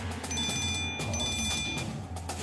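A telephone rings with a steady electronic tone that breaks off briefly and resumes, heard under a low background hum with no one speaking.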